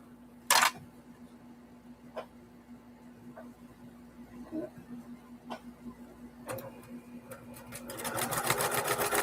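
A sewing machine stitching a quilt, heard near the end as a steady, rapid mechanical whirring that builds up, preceded by scattered clicks and knocks of handling over a quiet room background.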